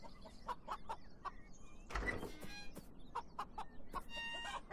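Chickens in a video game cluck repeatedly in short bursts after being let out of their coop in a garden, with one louder squawking flurry partway through, close and clear with no talking.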